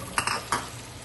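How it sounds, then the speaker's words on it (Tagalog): Cherry tomatoes frying in butter in a pan, a soft sizzle broken by three quick scraping stirs of a utensil against the pan, close and fairly quiet. "ipapry lang natin na kaunting oras itong ating cherry tomatoes"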